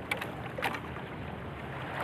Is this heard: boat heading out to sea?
yes